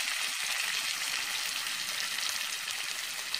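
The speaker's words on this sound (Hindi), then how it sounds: "अब मैं इसमें कटी हुई प्याज ऐड कर रही हूँ।" Chopped onions fry in a pan of hot oil with cumin for a hotel-style double-fried arhar dal, giving a continuous loud, hissing sizzle with faint stirring scrapes underneath.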